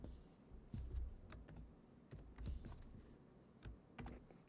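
Keys clack on a computer keyboard while entering an Excel formula, a quiet, close, irregular run of taps in small bursts with short pauses between them.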